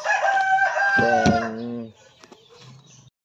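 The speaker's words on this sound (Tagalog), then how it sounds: "So ito po yung ating nangingitlog na manok" A rooster crows loudly and close, with laying hens clucking around it, then quieter clucks trail off.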